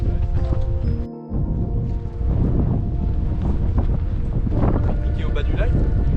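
Cool wind gusts across the mic at Lago Roca in Patagonia, a loud rumbling buffet broken by a brief lull, with other sounds faintly beneath.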